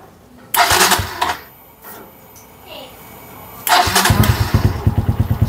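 A motorcycle engine cranks and catches after battery, regulator and stator troubles, with loud bursts of starter whir, a pause, then the engine firing into a fast, pulsing idle close to the microphone.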